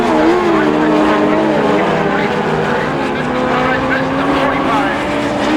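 An SB2 autograss race car in Class 7 at St Neots drives hard sideways through the turns, its engine snarling loudly and steadily while a commentator speaks over it.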